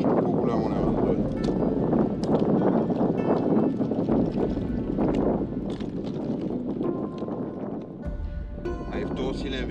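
Heavy gusting coastal wind roars and buffets the microphone throughout while light spin fishing for sea bass on Lemnos, with a person talking underneath it.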